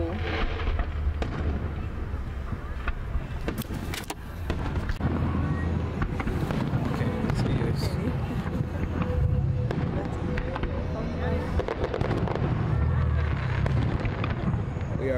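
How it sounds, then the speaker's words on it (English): A July fireworks show bursts and crackles at a distance, with repeated booms and popping under a steady murmur of nearby crowd noise and people talking. "We are watching the fireworks show."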